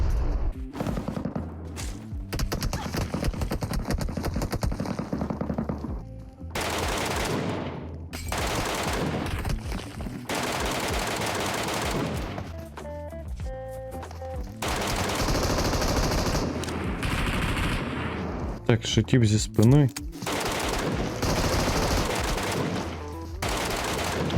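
Automatic gunfire in the battle-royale shooter Metro Royale, with dense bursts and rattling volleys repeating through most of the stretch, loud and close, and a voice briefly speaking between shots.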